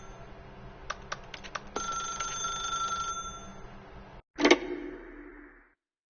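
A telephone rings in the video game The Stanley Parable 2 on PlayStation 4, a sustained electronic ring after a few clicks, then a sharp louder burst before silence.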